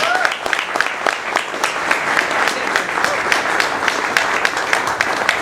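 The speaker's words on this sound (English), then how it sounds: "Big round of applause, please" An audience at an Air Force Association chapter talk gives a big round of applause, dense steady clapping with sharp individual claps standing out, loud and continuous throughout with a faint voice underneath.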